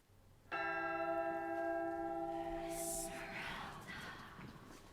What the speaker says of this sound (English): Now sound the bells and send the city to sleep